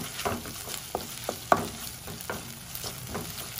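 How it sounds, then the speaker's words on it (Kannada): Ginger garlic paste and green chillies frying in a pan, with a low steady sizzle under repeated stirring strokes and one sharper knock of the spatula, close and moderately loud. "ಚೆನ್ನಾಗಿ ಫ್ರೈ ಮಾಡ್ಕೊಳ್ಬೇಕು."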